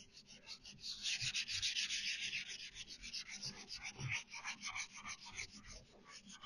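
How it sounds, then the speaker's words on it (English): Light hand sanding with 600-grit sandpaper on a VW T25 Vanagon van panel, a steady close rhythmic rubbing hiss with repeated back-and-forth strokes, alone without talk. "just going to give it a light rub with the 600"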